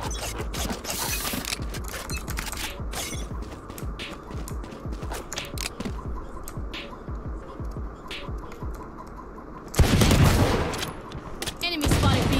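Rapid bursts of gunfire from the video game Valorant, dense and continuous with mechanical clatter, then a louder burst near the end.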